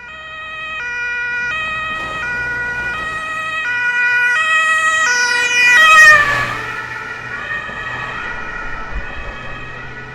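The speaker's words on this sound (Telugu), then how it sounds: "ambulance Nana, ambulance" An ambulance siren wails loud and close, its two-tone pattern alternating steadily before rising into a swelling sweep as the vehicle seems to pass, then holding on amid traffic rumble with no talk.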